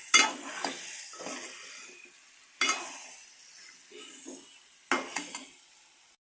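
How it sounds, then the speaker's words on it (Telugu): A spoon scrapes through fish coated in masala frying in oil in a pan, three distinct stirring strokes over a soft, continuous sizzle, close by with no speech. "ఇలా అంతా మంచిగా ఫిష్కి పట్టేలా కలుపుకోవాలి. ఒక 2 మినిట్స్ ఇలా మగ్గనిస్తే మసాలా అంతా ఫిష్కి పడుతుంది."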